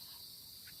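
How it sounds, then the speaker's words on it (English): Cicadas drone outdoors in Baltimore as a continuous, dense high-pitched buzz that stays steady throughout, with no voices. "I wonder if that's the cicadas."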